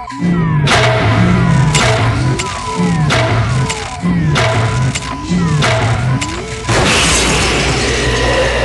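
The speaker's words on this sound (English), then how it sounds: "You'll know it when it's happening when the glass starts to crack." A robot in The Journeyman Project video game breaking through glass: repeated loud mechanical clanks and whirring strikes, then a bright crashing shatter near the end, close and dominant, with no talk.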